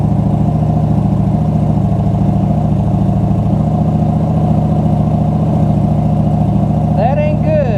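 A car engine holds a steady idle around 1500 RPM in a vehicle with a dead-battery problem, a loud, even hum with a faint rising whine near the end.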